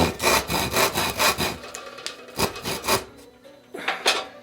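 A very coarse handsaw cuts wood while shaping a Greenland paddle with hand tools, a quick rhythmic rasping of push and pull strokes, close and clear, pausing briefly before a few more strokes.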